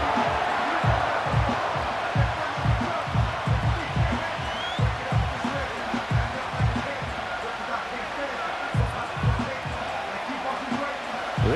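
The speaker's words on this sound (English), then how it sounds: "This crowd turning up the decibel level." Stadium crowd roar in the football video game Madden NFL 25, a Minnesota Vikings vs Green Bay Packers matchup late in the game on third and long, a steady loud crowd wash with rhythmic low thumping throughout.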